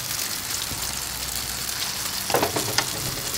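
An eggplant omelette frying in hot oil in a skillet sizzles steadily up close, then crackles louder and sharper when something is added near the end.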